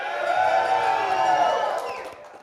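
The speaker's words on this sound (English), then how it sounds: "listen to the crowd here." A venue crowd roars and cheers in a dense, sustained wash that swells and then fades near the end, loud and close.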